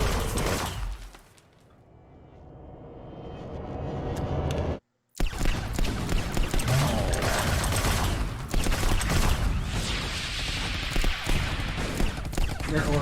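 Orks fire guns in a loud, dense battle scene from the animated film Helsreach: continuous rattling volleys and clanking mechanical noise fill the mix, broken by a brief quieter swell and a sudden cut before the barrage resumes.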